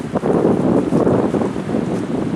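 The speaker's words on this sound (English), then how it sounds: "It's pretty windy." Strong wind on a lake buffets the microphone in a continuous low roar, gusting unevenly throughout with no speech.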